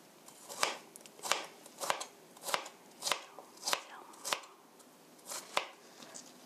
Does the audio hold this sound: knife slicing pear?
yes